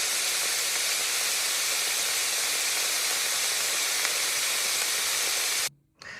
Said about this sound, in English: let's have a listen to the sounds of the sofrito gently sweating in the pan